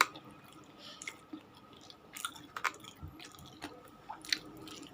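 Close, wet chewing of fried chicken: crunchy bites and soft squishy mastication come in irregular bursts at a quiet level, with no talking.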